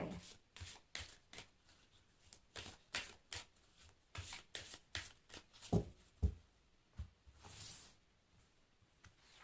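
Oracle cards are shuffled by hand in a quick run of crisp riffles and riffs, each burst close and distinct, about a dozen in a steady rhythm with a couple of heavier taps near the end, no talk.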